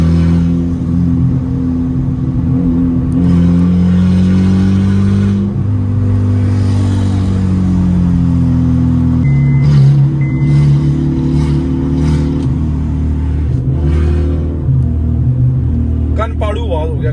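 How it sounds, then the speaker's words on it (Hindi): Loud, rough car exhaust from a vehicle with a damaged catalytic converter, a steady heavy rumble with revving and a few sharp pops near the middle and end, close to the microphone. "नीचे कुछ और मसला भी है जिसकी वजह से एग्जॉस्ट बहुत फटी आवाज़ दे रहा है।"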